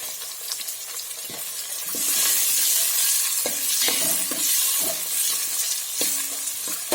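Chopped onion frying in a pan for a puffed-rice upma, a steady close sizzle with scraping stir strokes and spatula clicks throughout, no voices.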